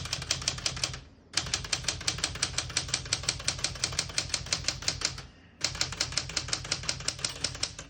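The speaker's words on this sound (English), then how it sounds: "We're going to keep that on single for now and finish typing." A 1977 Smith-Corona Classic 12 portable typewriter typing in a fast, even run of crisp mechanical key strikes, close up, with two short pauses between bursts and no talking.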